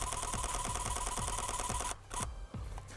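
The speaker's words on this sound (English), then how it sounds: "let's quickly take a bunch of pictures" A Sony Alpha A99 full-frame camera in crop sensor mode fires a rapid continuous burst, its shutter clattering in an even mechanical rhythm for about two seconds. It stops abruptly and then resumes in a few shorter bursts.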